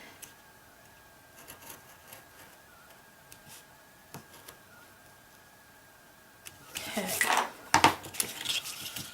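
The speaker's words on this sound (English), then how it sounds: "with my X-Acto knife I'm just going to make that cut" An X-Acto knife slicing through card, a quiet scraping cut that builds to a louder burst of rustling and scratching near the end, close and without talk.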